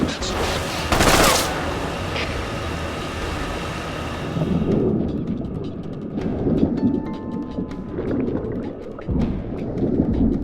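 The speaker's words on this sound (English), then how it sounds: "Requesting mortar support fire." Mortar support fire in the video game Metal Gear Solid Delta: Snake Eater, heavy booming blasts and rolling rumble in a dense barrage, then scattered crackling impacts and debris, loud and continuous throughout.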